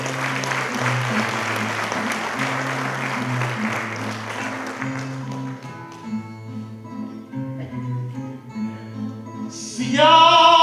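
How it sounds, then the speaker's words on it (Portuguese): An audience in a village performance hall claps for São Jorge during a cantoria, with sustained applause that gradually thins out over about six seconds while steady instrumental tones carry on underneath. "deiam palmas à glória e à honra de São Jorge."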